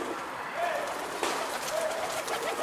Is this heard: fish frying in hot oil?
no